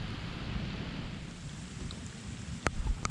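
Steady rain hisses on a wet day on the Ocklawaha River in Florida, a constant soft patter with a low rumble underneath and a couple of sharp close drips or knocks near the end.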